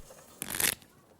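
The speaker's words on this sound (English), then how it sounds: "No, Mike, we're still shuffling." A deck of playing cards is shuffled once during a card game, a short crisp riffling burst lasting about a third of a second against a quiet room.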